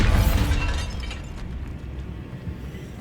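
A Bombarda blasting curse goes off in Hogwarts Legacy inside a tomb, a loud, close burst with a heavy low boom that quickly decays into a rumbling, crackling tail.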